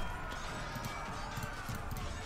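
Horses galloping in the Age of Empires 4 video game, a busy rapid clatter of hooves amid a dense medieval battle soundscape, steady and fairly loud throughout with no pauses.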